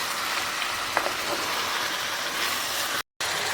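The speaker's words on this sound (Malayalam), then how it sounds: "ഇറച്ചി ചേർത്ത് കൊടുക്കുകയാണ് ഇത് നല്ലോണം നമുക്ക് ഇളക്കി യോജിപ്പിക്കാം" Marinated chicken pieces for a restaurant-style chicken biryani sizzle and crackle steadily in a hot pan as they are stirred, a dense continuous frying hiss with a brief gap near the end and no talk.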